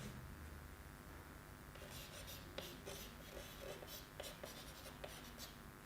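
Chalk or marker scratching across a classroom board in a physics lesson, a series of short strokes with steady scraping and tapping, close and clear under faint room noise.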